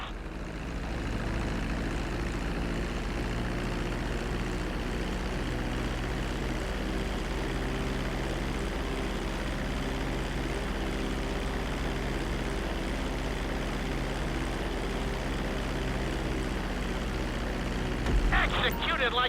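An airplane taxiing on a runway after landing in GTA 5 gives a steady engine drone that holds at an even level throughout, with a brief rise in noise near the end.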